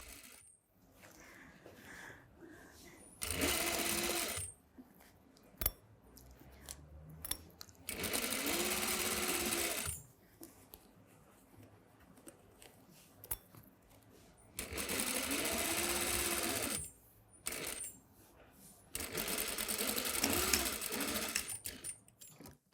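A sewing machine stitching a waistband onto a quarter-circle skirt, running in four distinct loud bursts of steady whirring stitching separated by quieter pauses with small handling clicks.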